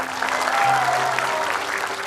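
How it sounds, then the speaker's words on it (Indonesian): A television studio audience bursts into brief, lively applause, many hands clapping together at once. "Tepuk tangan dong sekarang."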